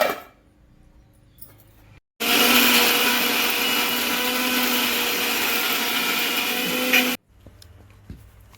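A mixer grinder grinds raw jackfruit with a little water into paste, a loud, steady whirring roar of about five seconds that starts and stops abruptly, with quiet on either side.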